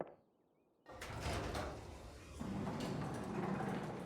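In the video game Carto, a door slides open after a brief quiet moment, a sudden grinding rumble that swells and carries on with a mechanical drone, heard alone without talk.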